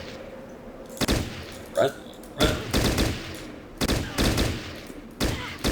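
Squad weapons fire in the Fallout Tactics video game, bursts of gunfire in several separate volleys of rapid shots, with someone talking briefly between them.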